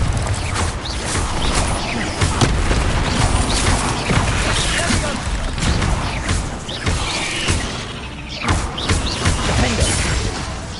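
Bombarda spell explosions in Hogwarts Legacy, repeated thuds and crashing blasts amid clattering, creaking combat noise against small beasts, loud and busy throughout with a few sharper hits standing out.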